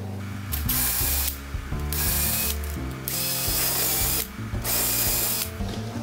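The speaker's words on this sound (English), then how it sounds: "Pilot drill the four fixings in the door." A power drill whirs in repeated bursts, pilot drilling four fixing holes into a door, several short runs of steady high-pitched spinning separated by brief pauses, close and loud.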